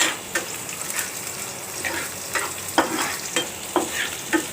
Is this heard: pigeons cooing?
no